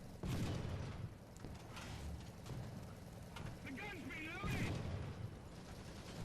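Heavy tank cannon shots boom in the video game War Thunder during a British reserve tank realistic battle, with two or three loud low thumps spread across a constant engine rumble while someone talks over it.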